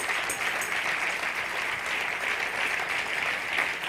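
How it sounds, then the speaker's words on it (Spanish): Church congregation at a testimony service clapping loudly and continuously, a dense, even wash of applause lasting a few seconds. "Come on, dale más fuerte ese aplauso a Jesús."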